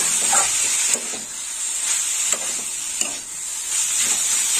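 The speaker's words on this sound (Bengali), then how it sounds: "ভালো করে কষিয়ে নেবো।" Banana flower with coconut sautés in a pan with a steady, close hiss and sizzle, broken every second or so by soft scrape of a stirring spoon.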